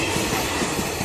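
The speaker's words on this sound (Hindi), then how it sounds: "देखिए ट्रेन हमारे यहाँ निकल रही है। मंदिर आ चुके हैं, वहाँ यहाँ रेलवे है ना, तो वहाँ पर ट्रेन निकल रही है।" A train runs along a railway line near fields and a temple, giving a steady, loud, broadband rumble that carries through with no gaps and no talk.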